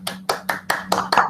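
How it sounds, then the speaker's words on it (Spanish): Audience clapping in rhythmic unison at an event, six or seven evenly spaced claps close and fairly loud, with no talk over them. "quiero invitar a todo el público presente que le demos un aplauso a Benjamín"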